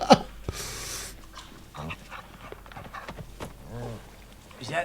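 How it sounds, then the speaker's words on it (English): A dog pants and whimpers in a movie scene, quick breathy huffs close by, with people talking over and between the sounds. "Is that the dog?"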